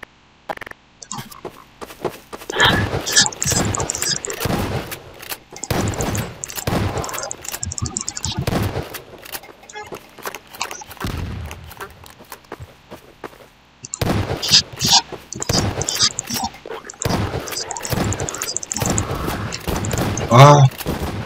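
Gunfire in Garry's Mod, bursts of rapid shots in loud clusters separated by quieter gaps, with a player's voice reacting over parts of the action.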